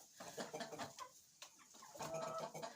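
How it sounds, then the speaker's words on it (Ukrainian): Hens clucking softly inside a coop in late November, several birds murmuring in an irregular, continuous chatter, faint and close, with no talking. "Вон як гарно повсідалися курочки."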